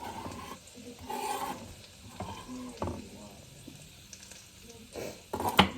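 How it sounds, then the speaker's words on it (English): Garlic sizzles in melting butter in a pan: a steady soft frying hiss with faint stirring scrapes and light clinks, moderately close, without speech. "I'm just going to put this garlic in the pan with the melting butter, which is like sizzling."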